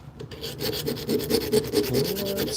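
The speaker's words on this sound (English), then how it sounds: "I've got a little file set, and I just want to make that hole big enough to get this file through" A small hand file works at a hole in a workbench piece, giving steady repeated rasping strokes, close and fairly even in rhythm, with no talk.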